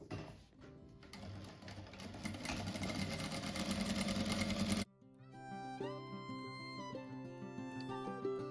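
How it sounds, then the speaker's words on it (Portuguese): A sewing machine stitches fabric strips for a butterfly craft, a loud, close, steady mechanical whir that runs continuously and then stops abruptly, leaving only quieter background sounds. "Agora eu vou passar uma costura em toda a volta, até aqui, ó, vou fechar."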